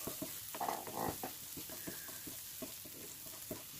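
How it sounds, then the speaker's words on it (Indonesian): Garlic, shallot and onion spice paste sautéing in a pan sizzles steadily, with repeated scraping stir strokes throughout, moderately loud and close. "Oke, lanjut kita tumis bumbunya."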